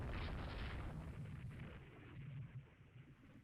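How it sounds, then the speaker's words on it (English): Naval guns fire from an enemy ship in the Rule the Waves 2 game, with a dense, low rumbling boom that starts loud and slowly fades into distant thuds. No voices are heard. "Whatever that ship is, it's opening fire."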